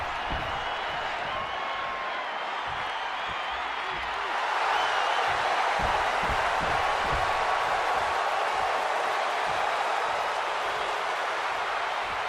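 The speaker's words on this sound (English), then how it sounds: "And this capacity crowd just exploded." A capacity arena crowd in the WWE 2K26 video game roars in a broad, continuous wash that swells louder partway through and holds steady.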